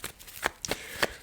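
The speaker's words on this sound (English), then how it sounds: "Let's give a bit more of a shuffle." Tarot cards are shuffled close up in a few quick riffling bursts, each soft papery flutter separated by short pauses, with no talk.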